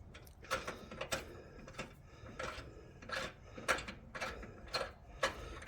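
Bolt being turned into a threaded hole on a 1980 car's front end while tubular control arms are installed, repeated ratcheting clicks in short bursts, close and moderately quiet.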